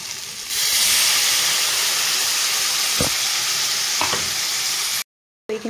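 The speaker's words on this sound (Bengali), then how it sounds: "এখন দিয়ে দিব আমি আগে থেকে করে রাখা টমেটো আর কাঁচা লঙ্কা পেস্ট।" Loud, steady sizzling of potatoes frying in oil as tomato and green chili paste goes into the pan, with a brief stirring clatter midway and a short silent break near the end.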